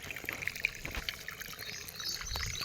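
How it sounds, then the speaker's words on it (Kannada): Irrigation water pours and trickles steadily into a farm field nearby, a continuous splashing flow with a few faint high chirps over it, and no one speaking. "ನೀರು ಹೊಲಾಗೆ ಬೀಳತ್ತಾವ"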